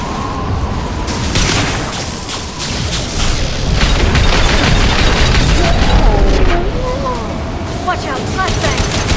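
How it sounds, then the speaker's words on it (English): A flashbang grenade going off amid ongoing combat in the video game Mass Effect 2: dense booming blasts and gunfire over a loud, sustained battle din, with voices speaking over it. "Watch out, flashbang!"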